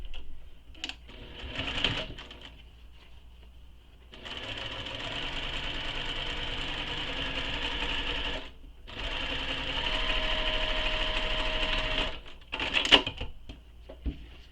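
A sewing machine top-stitches the bottom edge of a fabric bottle pocket in two sustained runs of rapid, even mechanical chatter, separated by a brief pause, with light clicks at the start and end.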